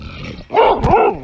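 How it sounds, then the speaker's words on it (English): Boxer dog barks loudly and close by, a short gruff bark with a growly edge, with no one talking. "Oh, they got two dogs. Damn. Those are boxers."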